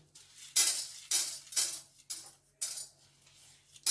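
Chana dal dry-roasted in a frying pan without oil, stirred with a utensil: about seven distinct scraping, rattling strokes in a loose rhythm, close and clear with no talk.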